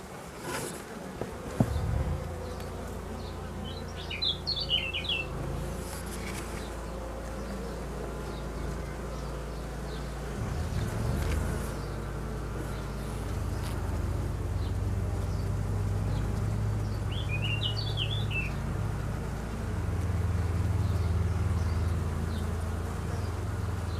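Honey bees buzz around an open hive as a constant dense drone, close by, with a few soft knocks and brief higher chirps over it and no talking.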